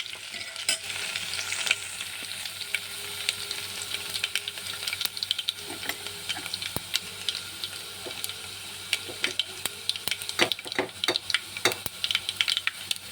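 Garlic and curry leaves frying in a pan for Konkani kadhi, a continuous close sizzle with a scattering of sharp crackles and spatula scrapes.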